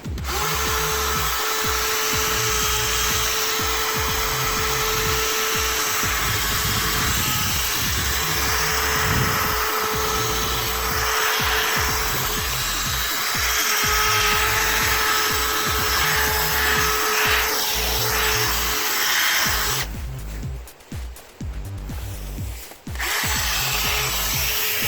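Power drill with a buffing pad spreading paste over a car headlight: a steady, close whirring motor with rubbing friction texture, running continuously before briefly cutting out and restarting near the end.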